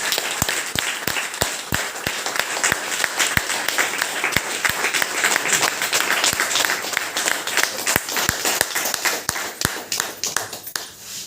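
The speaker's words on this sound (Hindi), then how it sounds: "एक बार बढ़िया वाली ताली, बढ़िया वाली" An audience at a business motivation meeting applauds continuously, a steady roar of many hands with a few sharp, close individual claps standing out, tapering slightly at the end.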